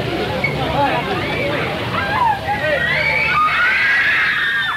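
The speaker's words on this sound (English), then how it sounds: "The ever-faithful fans turned up despite the rain, and they screamed just as they do when the sun shines." A crowd of Beatles fans screaming in the rain outside the Dorchester Hotel during the Variety Club awards, a loud, continuous wash of high shrieks and babble that swells and holds throughout.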